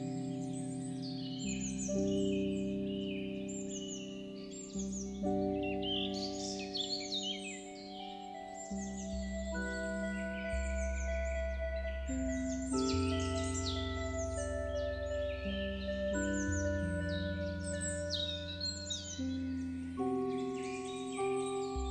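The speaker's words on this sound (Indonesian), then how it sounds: "Anis macan hidup di hutan lebat Sumatera dan Kalimantan." An anis macan thrush singing in dense Sumatran or Kalimantan forest, a sequence of clear whistled bird phrases and chirps over a layered musical backing.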